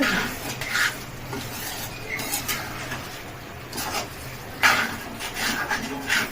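Curry ingredients with garam masala and cumin powder being stirred in a pan, close scraping and clinking of a spoon against the metal in irregular bursts over a faint background hum, with no talk.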